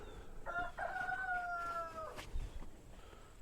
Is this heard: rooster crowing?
yes